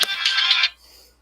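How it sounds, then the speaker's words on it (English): A short phone ringtone chirps brightly for about half a second and then fades out quickly, clear and close, with no talking over it. "I like that ringtone."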